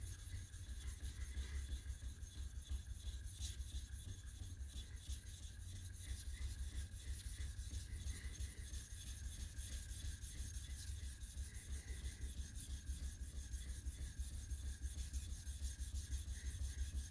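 Blade being sharpened on a vitrified diamond stone, a quiet, steady rhythmic rasp of metal rubbing back and forth, continuous and close, with no talking.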